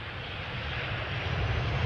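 A Boeing 737-800 arriving at Amsterdam Schiphol from Stockholm, its engines a steady, broad roar that holds even and fairly close throughout the short stretch.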